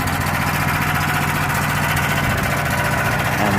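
A generator engine with a failed idle control, running flat out at full throttle, making a loud, steady, continuous buzzing drone with an even pulsing rhythm and no talking over it.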